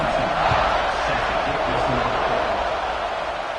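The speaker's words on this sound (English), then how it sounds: "this crowd is buzzing after that last score" A football stadium crowd keeps up a dense, steady roar and buzz after a score in a tied game in the third quarter, loud and continuous throughout the short stretch with no distinct voices standing out.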